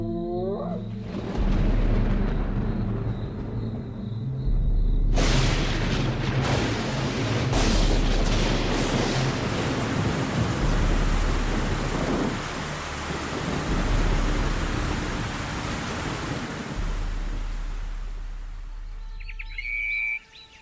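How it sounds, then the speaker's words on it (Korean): Thunder rolls across the African savanna in long, loud, rumbling waves with rain falling steadily, and birds call faintly at the start and end. "모두가 기다리던 천둥 소리가 들려옵니다."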